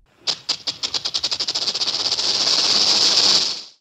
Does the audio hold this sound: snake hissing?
yes